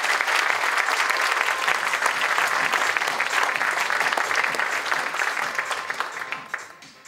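Dense, sustained applause from a large audience at the 2024 Nagano Marathon opening ceremony greets the invited men's elite runners, holding steady and loud for several seconds before thinning out at the end.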